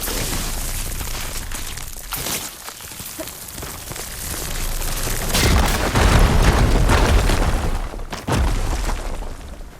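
In Horizon Forbidden West, a fire gleam is blown up with an igniter, bringing heavy booming blasts with shattering, crumbling debris that surge and rumble in several loud waves over about ten seconds.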